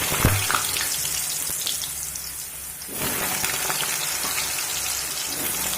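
Cut potatoes dropped into hot oil with cumin seeds and dry red chilli, a bright burst of crackling sizzle at first that eases, then a fuller steady frying hiss for the rest.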